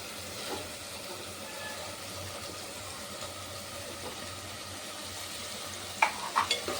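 Tomato and boiled cauliflower frying in a pan with garlic paste, a quiet steady sizzle with a few sharp utensil clinks toward the end.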